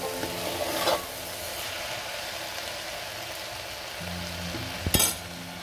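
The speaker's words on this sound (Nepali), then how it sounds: "दाललाई मजाले भुट्नुपर्छ। मजाले भुटेर एकैछिन भुटेपछि अनि मरमसला हाल्नु पाला आउँछ।" Lentils dry-roasting in a pan for a Nepali Teej festive dish, giving a steady soft sizzle and occasional stirring scrapes, with a louder clatter near the end.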